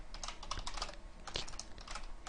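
Someone types on a computer keyboard in quick, uneven bursts of soft clicking keystrokes, quiet and close, with no voices.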